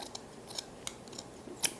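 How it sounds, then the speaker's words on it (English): Good scissors snipping through a section of cotton t-shirt, a few faint separate snips with one sharper cut near the end, close and quiet with no talking. "So I just take a t-shirt and I cut a section out of it with the"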